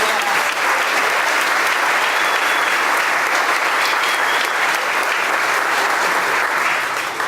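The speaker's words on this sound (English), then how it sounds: "Let's give everyone another round of applause" Sustained, dense applause from a large audience at the 2018 Clayton Chamber of Commerce annual meeting and community awards night, honoring the award winners; the clapping stays loud and even for the whole stretch with no talking.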